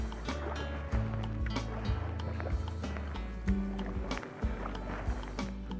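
Kayak paddle making short forward strokes in water, with the blade angled and climbing, giving close splashing and dripping sounds over a steady low hum, with no talking.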